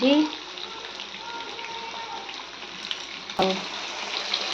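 Tel pia fish sizzling in hot oil in a pan, a steady soft hiss with a brief clatter midway and a voice speaking over it.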